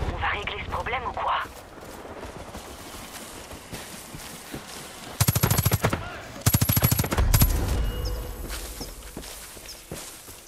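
Two rapid bursts of helicopter-mounted machine gun fire in Far Cry 5, loud and close, with dense, evenly spaced shots set against in-game ambience and movement sounds.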